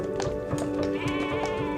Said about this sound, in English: 63 sheep